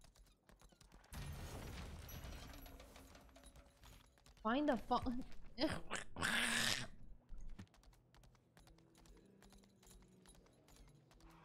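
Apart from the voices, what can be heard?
horse hooves clip-clopping in video game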